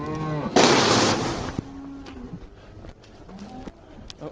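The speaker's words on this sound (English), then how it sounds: "So let's get these cows out in the field for the first time this year." Cows being let out to the field for the first time in the year moo loudly, one long close moo followed by a brief loud burst, then quieter scattered lowing and shuffling.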